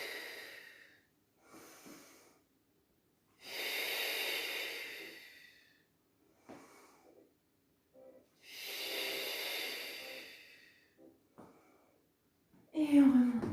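A woman exhales in long, audible breaths while doing an exercise on a ball, two drawn-out airy breaths with shorter puffs and small noises between, close by and moderately loud.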